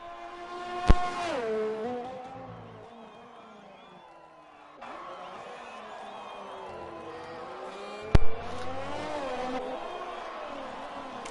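High-pitched Formula 1 car engine from a racing video game screaming through upshifts and downshifts at the Mexico circuit, rising and falling whine with sharp gear-change clicks, loud and close, with commentary over it.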